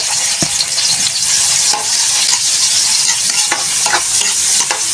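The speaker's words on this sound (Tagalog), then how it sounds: "I-gisa lang natin ng mga ilang segundo, mga 30 seconds." Onion and garlic sautéing in a hot pan for an adobong pusit with eggplant: a steady, close sizzle with occasional sharp scrapes and clicks of a utensil stirring, loud and continuous throughout.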